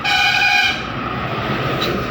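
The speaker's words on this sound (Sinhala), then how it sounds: "කෝච්චියක් එන්නකන් හිටියා" A train in the Traffic Rider motorcycle video game sounds a long steady horn, then rumbles past loudly and continuously. No one talks.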